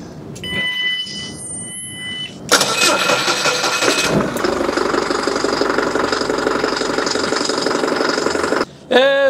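An Isuzu engine in a factory cranks briefly, then fires up and settles into a loud, steady running clatter that continues before cutting off near the end.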